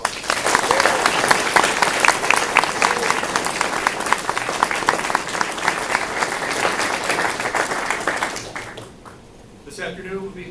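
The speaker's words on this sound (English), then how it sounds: "Please join me in giving them a round of applause." A university award ceremony audience claps steadily for honorees, a full, even wash of applause lasting about nine seconds, then dying away as a voice begins speaking.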